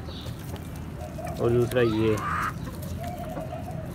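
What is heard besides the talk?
hens clucking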